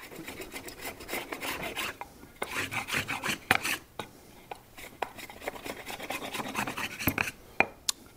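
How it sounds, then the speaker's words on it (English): Rhythmic scratchy strokes of 220-grit sandpaper hand sanding wood, up close, in repeated bursts with brief pauses and a few sharp taps. "I'm just going to do some hand sanding here."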